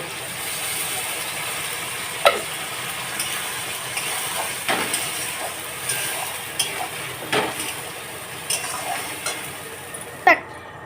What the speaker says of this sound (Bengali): আর এখন আমি এই মশলাটা এর মধ্যে দিয়ে ভালো করে কষাবো